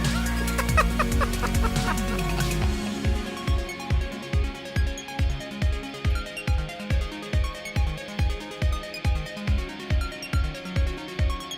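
A chicken clucks in a steady, rhythmic series of loud, close pulses, preceded by a few seconds of busier, denser sound, with no talk.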